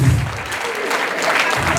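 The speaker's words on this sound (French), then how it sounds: "Je crois que ça s'applaudit." Brief burst of audience applause at a tribute gathering in Paris, a dense, steady patter of many hands clapping together with no one speaking over it.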